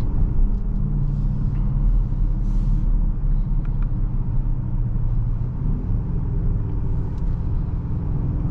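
A 2024 BMW X5 M60i hums and rumbles steadily from inside the cabin while driving, a low continuous engine and road drone with no talking.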